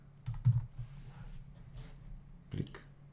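A few quiet keystrokes on a computer keyboard, a couple of clustered taps followed by a single click after a pause.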